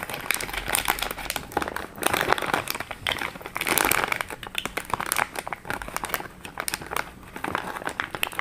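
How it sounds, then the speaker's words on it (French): Plastic bags crinkle and rustle as parts of an Anet A8 3D printer are unwrapped, continuous close crumpling in uneven bursts with no speech. "Toujours plus facile à les déballer qu'à les remballer dans les sachets."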